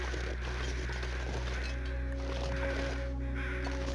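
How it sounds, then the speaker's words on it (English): Crows cawing in the snowy wilderness of the survival game The Long Dark, intermittent calls over a steady low ambient drone, with no talking. "Sounds like there's even more birds this way."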